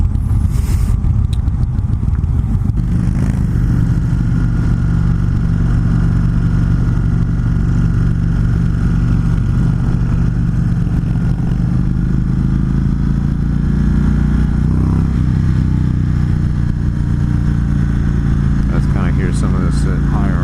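An Indian Chief Classic motorcycle engine at higher RPM, a loud steady low rumble and drone heard from the rider's seat with wind noise, holding near-constant throttle for the whole stretch.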